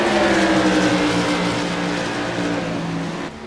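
A modified race car roars past on the oval at Rockingham Speedway, its loud engine droning steadily and slowly fading toward the end.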